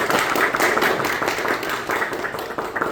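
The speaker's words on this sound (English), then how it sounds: "I would also like a round of applause for our speakers" A dense, steady round of applause from a college club audience for talk speakers, a continuous hiss of many hands clapping that holds loud and even throughout.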